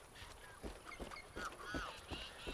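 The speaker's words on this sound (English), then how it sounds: "What's that bird? That bird sounds interesting." Bird in the video game Far Cry 5 giving a series of short honking, goose-like calls, faint and a little distant, over quiet ambient background with no talking.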